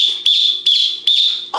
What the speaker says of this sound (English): I gotta blow the whistle.